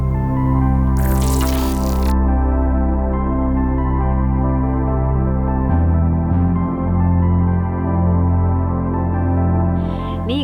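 Coffee being made outdoors at a roadside stop in Iceland, with liquid dripping into a cup: soft, steady drips over a constant humming drone, with a brief hissy burst early on and a short squelch near the end.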